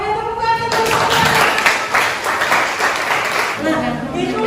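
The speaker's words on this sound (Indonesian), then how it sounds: "Oke, tepuk tangan." A classroom of students applauds at a learning session, a dense burst of clapping starting after a brief pause and continuing steadily for a few seconds before fading as a voice speaks.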